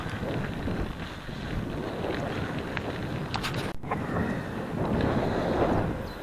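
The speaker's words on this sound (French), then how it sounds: "Le vent est quand même très très froid." Cold wind buffets the microphone during a long mountain bike ride, a continuous low roar with a brief sharp knock midway.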